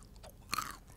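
A single crisp crunch of an almond being bitten, close and quiet, with soft chewing sounds around it.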